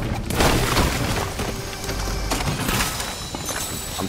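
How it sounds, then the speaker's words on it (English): Shotgun fire rings out in a battle royale video game, a loud booming blast at the start followed by further sharp cracks and crashing impacts over a dense, noisy game mix. "I hear shotguns."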